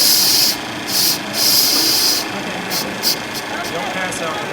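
Rhythmic bursts of hissing steam over a steady mechanical rumble from a running stationary steam engine, with people talking nearby.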